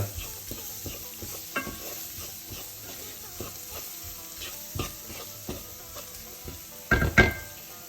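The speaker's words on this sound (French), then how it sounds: "Je mélange bien pour faire rôtir les épices." Spices and ground ginger roasting in a pan while being stirred, with soft sizzling and repeated scrapes and taps of a utensil against the pan, ending in a couple of louder clanks.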